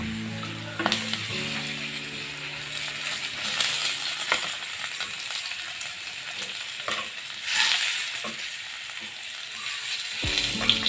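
Potatoes sautéing with minced garlic in a pan give a steady, close sizzle, with scraping stir strokes and a few sharp clinks from a utensil against the pan.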